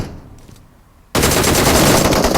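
Warning shots in PUBG Mobile: after a second of near quiet, a sudden loud burst of rapid automatic gunfire erupts and keeps rattling steadily to the end.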